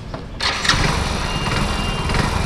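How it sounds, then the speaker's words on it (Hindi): A Hero Splendor BS6 motorcycle engine cranks and catches, then settles into a steady, close, loud idle with a faint rev rise, no talk. "अपनी बाइक जो है स्टार्ट हो गई है, वो और RPM भी अच्छे से लेने लगी है"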